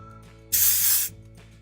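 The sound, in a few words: IGK Direct Flight dry shampoo being sprayed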